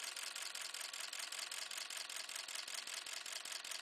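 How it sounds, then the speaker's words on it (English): Homemade Newman motor spinning with no load at roughly 300 RPM, a steady close mechanical whir with rapid, evenly spaced ticking clicks running throughout. "This motor right now has no load. It is running about 300 or so RPM."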